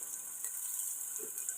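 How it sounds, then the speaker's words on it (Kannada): Onions frying in hot coconut oil give a steady, soft sizzle and crackle that stays even throughout, with no talking. "ನೀರುಳ್ಳಿ ಒಳ್ಳೆ ಫ್ರೈ ಆಗುವವರೆಗೆ ಬಿಸಿ ಮಾಡ್ತೇನೆ"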